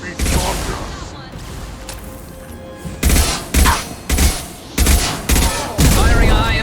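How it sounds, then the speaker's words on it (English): Gunfire in the video game Mass Effect 2 during a combat sequence: a dense, loud volley of shots and impacts, then a series of heavy separate bursts, with voices in the mix. "Firing a high impact shot."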